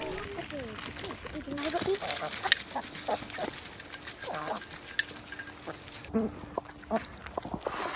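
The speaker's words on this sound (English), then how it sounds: "The chickens absolutely love eating their fermented feed" Backyard chickens cluck and peck while eating fermented feed, with short repeated calls near and far over a busy yard background and speech mixed in.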